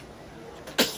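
A single short sneeze bursts out near the end of a quiet moment, close and fairly loud.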